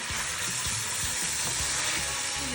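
Onion half-rings sizzle steadily in a hot frying pan with Italian herbs, tomato, basil and garlic, a loud continuous close hiss with faint stirring clicks beneath.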